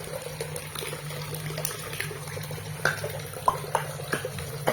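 Water sloshes and trickles in a container holding fingerling fish, a low steady wash with occasional small splashes and drips toward the end, fairly faint and without talk.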